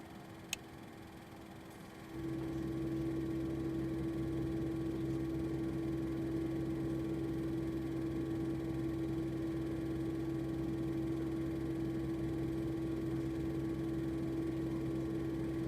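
Engine number 2 of a Fokker F28 in a flight simulator spools up after a quiet start, becoming a steady droning hum with a strong tonal whine that holds evenly at constant loudness.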